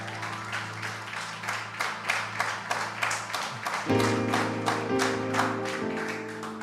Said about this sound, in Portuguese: aplauda o nosso Cristo